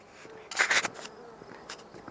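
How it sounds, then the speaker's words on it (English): A bee buzzes close to the ear outdoors beside a 6x12 double-axle trailer under construction, in a loud brief burst followed by a fainter pass. "And bee trying to find my ear."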